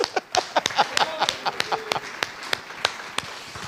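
Scattered hand claps from a church congregation during a sermon, a handful of distinct sharp claps spread unevenly over a few seconds, moderately close, with faint voices underneath.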